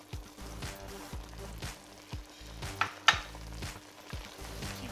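Seasoning stirred into Jamaican curry rundown fish in a pan, with a steady sizzle and frying hiss under repeated rhythmic scrapes of a spoon against the pan, close up and with no talking.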